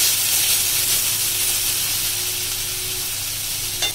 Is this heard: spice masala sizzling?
yes